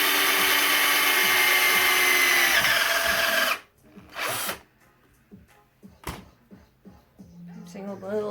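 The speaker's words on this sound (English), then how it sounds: "So I've worked out where I want to drill it." A power drill bores through a hoop, running loud and steady for about three and a half seconds before stopping, followed by faint clatter of small metal pieces and a brief further burst.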